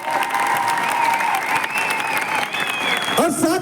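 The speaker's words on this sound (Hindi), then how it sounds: "मैं चाहूंगा हमारे ग्रेट मेंटर, हमारे सतीश ठाकुर साहब के एक बार जोरदार ताली होनी चाहिए।" An audience at a Safe Shop business gathering applauds loudly and steadily for a mentor, dense clapping filling the room, with a voice speaking over it toward the end.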